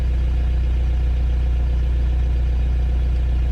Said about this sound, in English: Same with the idle, if I have it up full, it's now not lumpy, it's now running lumpy.